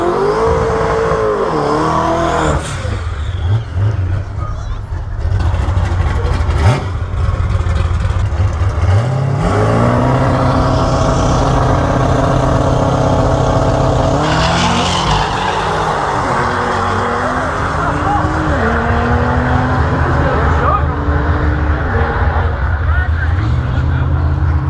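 A Porsche and a Dodge Twin Turbo drag race at a no-prep shootout, loud engines roaring and revving with shifting pitch, tire noise throughout, and a commentator talking over the action.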